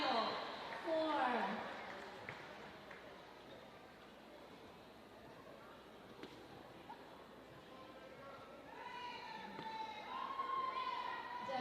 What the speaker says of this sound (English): Give these dancers a big round of applause